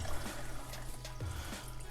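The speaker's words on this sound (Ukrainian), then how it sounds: "Далі заливаємо водою повністю." Water pours into a small saucepan holding chopped citrus zest, a steady trickling, splashing stream that runs close and continuous throughout with no talking.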